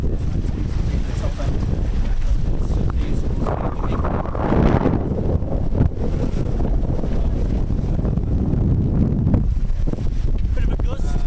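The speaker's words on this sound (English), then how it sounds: "Bit of a gust." Wind gusts roar across the microphone with heavy buffeting on a sailing boat near Poole, mixed with the rush of water and the moving boat. A faint voice can be heard.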